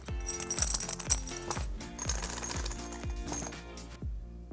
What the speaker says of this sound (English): If we're talking about zipper treatment, all you gotta do is give it a little shake.